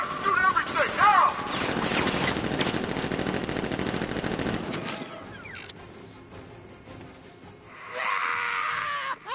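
Militia gunfire in a Batman Arkham game, a sustained loud barrage of automatic shots with shouting voices over it, breaking off abruptly midway before quieter scattered sounds and another burst of noise.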